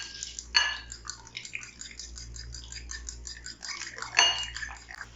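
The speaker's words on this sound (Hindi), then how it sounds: "अब हमने ये जो 4 अंडे लिए हैं इनको अच्छे तरीके से मिक्स कर लिया है।" Four eggs whisked in a bowl give a rapid, rhythmic clatter of utensil against dish, close and fairly quiet, with two louder clinks.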